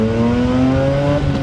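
A Mazda RX-8 accelerates hard, its engine note loud, close and steadily rising, then dropping abruptly as it shifts into second gear near the end.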